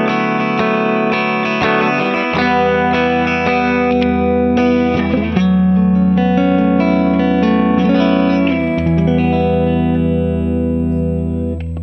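Strummed electric guitar chords ring out with a splashy, lingering spring-reverb tail, sustained and fairly loud with no talking.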